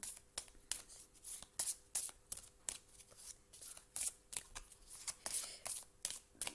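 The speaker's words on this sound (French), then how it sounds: "je vais demander une carte" Playing cards are shuffled by hand before one is drawn, giving a fast run of crisp riffling snaps in a steady rhythm, close and fairly loud, with no talking.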